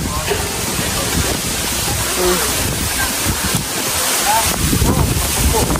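Strong outdoor wind near a well buffets the microphone in a constant roar, with faint voices and water-like rushing in the background.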